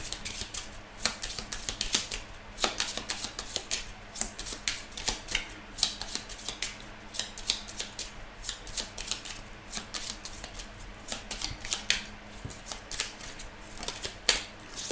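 A deck of Lenormand cards is shuffled and cut by hand, a long run of soft, rapid, irregular card flicks and riffles, close and fairly quiet, with no talking.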